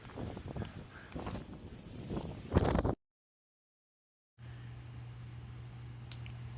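Wind buffets the microphone on an open hilltop, a rough broadband rush that swells and gusts, cuts out for over a second, then resumes as steadier blowing with a low hum underneath.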